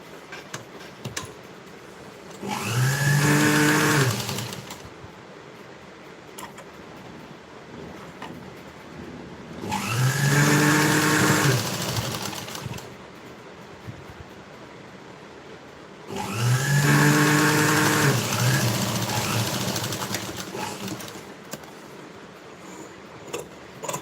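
A sewing machine stitches a folded strip onto a princess-cut blouse in three long, loud whirring runs of a few seconds each, separated by quieter pauses.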